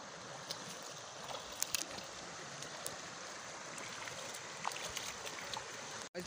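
Steady rushing water of a fast village stream swollen by rain fills the scene, a constant broad wash with occasional faint splashes and clicks, fairly distant and even throughout.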